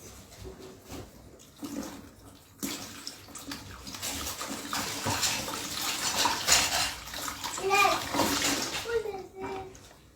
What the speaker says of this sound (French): Je lave mes mains.